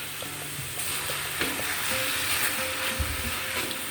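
Hot sauce and soy sauce poured into a hot frying pan with marinated chicken, giving a steady close sizzle with faint stirring scrapes throughout, no talking.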